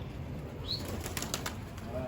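A brief flurry of a pigeon's flapping wings in flight sounds at close range over soft background noise, quick and fluttery, with no clear voices.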